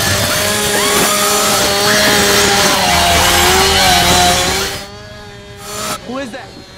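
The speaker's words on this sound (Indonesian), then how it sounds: "Berisiknya suara mesin gergaji ini" A chainsaw roars loud and continuous in a horror film scene, its harsh revving whine filling the first few seconds before cutting off, followed by brief voices.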